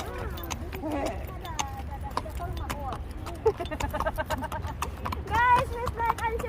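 Horse hooves clop steadily while a horse is ridden in the UAE, with voices talking over the rhythmic footfalls throughout.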